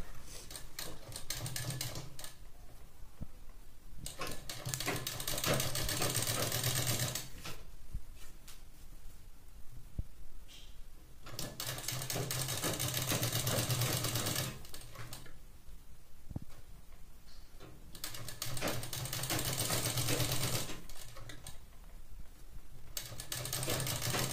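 A sewing machine stitches a blouse sleeve onto the shoulder in long steady runs of rapid whirring. The runs are separated by short quiet pauses as the fabric is turned, and the sound is close and alone.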